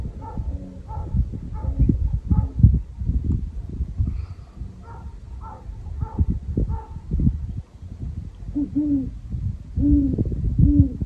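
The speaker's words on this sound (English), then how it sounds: "there is a faint owl off in the distance as well." Soft, low owl hoots repeat in slow, rhythmic phrases, distant and muffled against a quiet night background at Fort Sumner, New Mexico.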